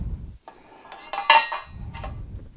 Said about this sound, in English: We've got 2 big pans, and I've got 4 little pans.